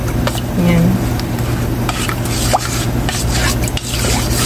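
A maja blanca mixture with coconut stirred in a pan, close scraping and sloshing strokes in an irregular rhythm over a faint sizzle, with no voices.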